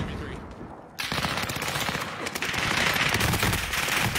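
Gunfire in a video game erupts after a brief quieter start into sustained rapid bursts of shots, dense and loud, continuing to the end with faint voice activity beneath.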